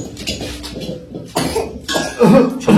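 Someone with a cold and fever coughing, several close, rough coughs in uneven bursts, growing heavier toward the end, with no talk between them.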